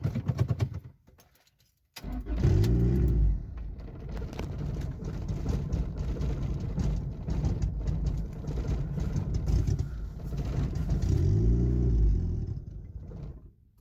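Turbocharged Honda Accord engine on an eBay-tuned ECU runs rough after a brief dropout, a loud close rumbling idle with uneven surges and two rising revs before it settles back.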